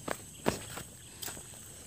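Footsteps on a farm path, a few soft, uneven steps and scuffs close by against a quiet outdoor background.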